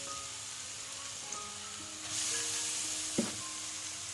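Grated carrots sauté in melted ghee with cardamom, a gentle, even sizzle close to the pan that swells slightly midway, broken by an occasional stirring clink and scrape, quiet and with no talk.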